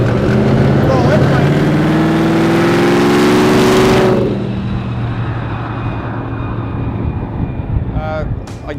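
Twin supercharged V8 engines in a 1927 Ford hotrod idle with a loud, deep, throbbing rumble. The sound drops abruptly partway through, leaving a quieter lingering idle with a few faint clicks.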